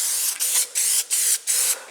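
An aerosol spray can hisses onto the door panel of a 1970 AMC Gremlin in four close, loud bursts separated by brief pauses, with no voices.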